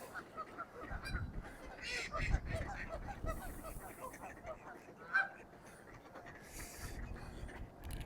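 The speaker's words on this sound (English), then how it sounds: "It's like mostly geese." Geese honk repeatedly at a chilly lake in Regina in October, the calls coming in scattered bursts at moderate distance over outdoor ambience, with a louder honk near the middle and occasional faint voices.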